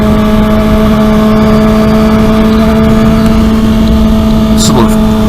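A Honda CBR 600RR motorcycle engine holds a loud, steady high-pitched exhaust note close by, with a faint voice near the end.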